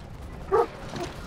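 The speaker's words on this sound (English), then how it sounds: "sorry about the background noise because I mean I have my dog" A single short dog bark sounds in the background, faint and brief, with quiet room noise around it.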